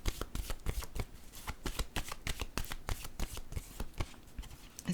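Tarot cards shuffled and handled close up before being laid on a spread, an unbroken run of quick papery slaps and flutters lasting about five seconds, with no talking.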